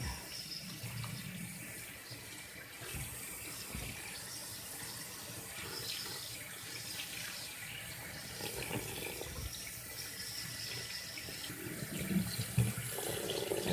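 Cooked somen noodles are rinsed under a running kitchen tap, water splashing steadily into a sink throughout with small surges and clatters, close and moderately loud, no talking.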